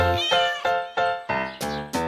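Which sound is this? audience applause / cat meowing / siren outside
cat meowing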